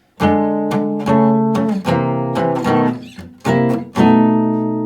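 Acoustic guitar plays a short 12-bar blues turnaround in E, a series of strummed chords with a descending feel, ending on a sustained ringing chord.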